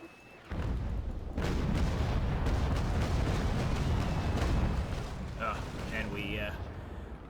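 A naval cannon barrage in the age-of-sail game Naval Action, loud heavy booms rolling together into a sustained rumble that starts abruptly and eases off toward the end.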